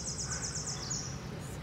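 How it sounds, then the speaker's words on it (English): Birds chirp in high, bright bursts near shuttered windows on a street in Rome, steady and fairly close, with a faint wash of voices and city noise beneath. "The birds are like so happy."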